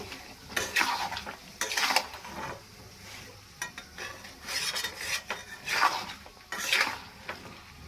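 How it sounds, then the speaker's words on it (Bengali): Mango pickle with salt gets stirred in a pan, bursts of metal spoon scraping and clattering against the pan in irregular strokes over a faint sizzle. "এরপরে ভালো করে নাড়িয়ে নিচ্ছি।"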